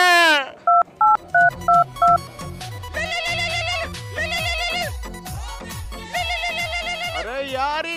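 A phone rings for an incoming call, loud and close: a short run of beeping tones, then a repeating electronic ringtone melody that loops several times.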